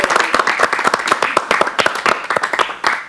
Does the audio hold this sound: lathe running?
no